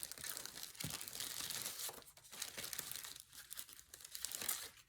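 Paper being cut with scissors and handled during papercraft, a steady run of crinkling, rustling and snipping sounds close by, with no talking.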